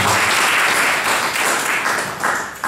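Applause fills a council chamber at a lawyers' conference, a dense sustained burst of many hands clapping that swells and then tapers over a few seconds.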